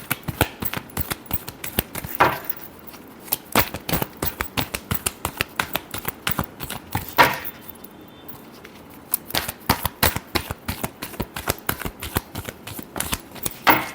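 Tarot cards shuffled in quick, crisp riffling bursts, a dense run of papery flicks and snaps close up, with a couple of brief pauses and no voices.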